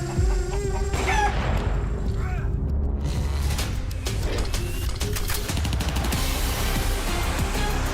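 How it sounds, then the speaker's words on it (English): A chicken clucking during a Counter-Strike match, brief bird calls over dense, loud game and broadcast noise with occasional booms and mechanical clatter. "The chicken. Chicken."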